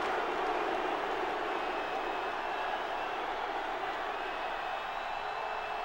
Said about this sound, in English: Crowd very upset after that big return.